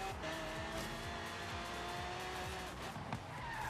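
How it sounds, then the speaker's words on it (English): A Ford Mustang in the Forza Horizon 3 racing game locks its tires under hard braking, loud sustained squealing over a roaring engine and other cars nearby, continuous and close, with no voices. "Anytime I have to actually get on the brakes, we immediately lock up."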